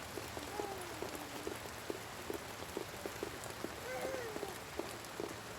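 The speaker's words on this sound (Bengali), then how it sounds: "এই দেখুন প্রচুর বৃষ্টি নামছে।" Heavy rain patters steadily on a surface, a dense continuous hiss with scattered drips, and a faint voice murmurs briefly in the background.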